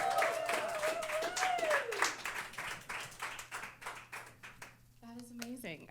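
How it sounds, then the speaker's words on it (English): Audience members clap in a scattered rhythm after a live hip-hop and orchestra performance at an Austin studio, the claps fairly soft beneath a speaking voice and brief sung tones. "I want to stand and clap more"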